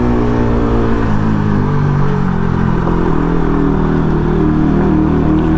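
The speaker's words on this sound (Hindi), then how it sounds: "और साउंड आ रहा है ना भाई अपनी बाइक का खतरनाक।" A loud motorcycle engine runs steadily close by, a constant throaty drone with a slight rattle that holds without pause.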